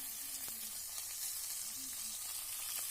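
Onions frying in oil for a bitter gourd curry, an even close sizzle running throughout with faint scrapes and taps of stirring underneath and no talking.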